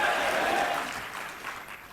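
An audience at a yoga and meditation event gives a guest loud applause, a dense crowd clapping that is strongest at first and then gradually thins out.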